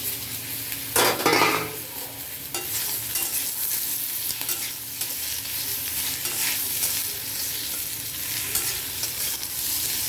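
Chopped mango frying in a wok with mustard seeds and dried chilli, a steady close sizzle with scraping stirs and a brief louder spatter near the start, with no talking.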